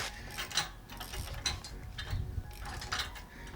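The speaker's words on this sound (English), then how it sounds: "get your handy ratchet or whatever you got" A hand ratchet tightens the bolts on a trailer hitch tightener, giving repeated clicking bursts of pawl ticks close to the microphone with brief pauses between strokes.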